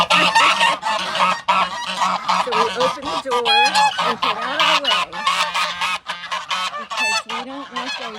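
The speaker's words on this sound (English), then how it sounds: "We let the geese out" Geese honk loudly and continuously as they are let out of a farm enclosure with goats nearby, a dense chorus of overlapping calls with a person speaking briefly beneath them.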